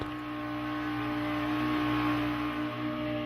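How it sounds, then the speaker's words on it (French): A small, noisy outboard motor on a boat travelling down the Niger River drones steadily and loudly throughout, close by, with no talking. "Le petit moteur est malheureusement aussi bruyant que l'autre."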